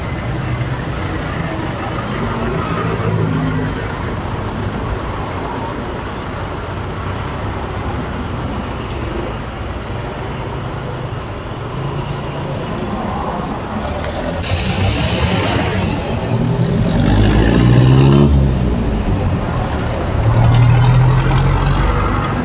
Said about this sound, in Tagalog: Dito guys, yung traffic dito di natatapos